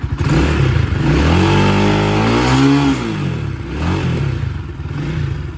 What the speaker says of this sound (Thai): ท่อเดิม จะลองเบิ้ลดูครับ